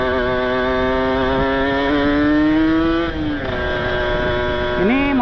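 A Kawasaki Ninja RR two-stroke motorcycle engine revs loud and close, holding a high buzzing pitch that climbs steadily, dips briefly, then blips up again near the end.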